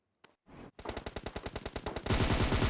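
Automatic gunfire from PUBG Mobile Lite rattles out in a rapid, evenly spaced burst of loud shots, building into a denser, continuous roar of fire at the end, preceded by a couple of brief clicks and a short rustle.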